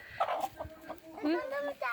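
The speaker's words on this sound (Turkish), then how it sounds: "Bak burada da tavuklar var horoz var." Chickens cluck and squawk close by in a village yard in quick, uneven bursts, one drawn-out call rising above the rest.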